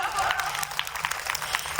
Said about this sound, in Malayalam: നല്ലൊരു കൈയടി അവർക്ക് കൊടുക്കാം.